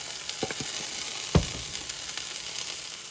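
Ground beef sizzles steadily in a hot pan, with a brief clatter of stirring partway through.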